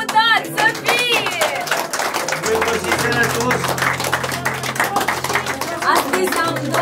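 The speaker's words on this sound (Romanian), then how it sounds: "cu ce dragoste a zis Gheorghe și Mariana, aplaudați să fie!" Rhythmic clapping from a group, loud and close, with voices and music mixed in underneath.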